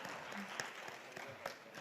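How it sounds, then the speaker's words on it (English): Faint, distant audience applause at a business leader awards ceremony, a short steady patter of clapping with a few sharper claps. "a big round of applause to Rare Rabbit"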